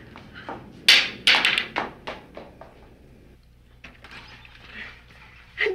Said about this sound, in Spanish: Tócale a la puerta.